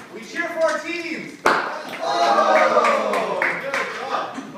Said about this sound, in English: run back and now we cheer for our teams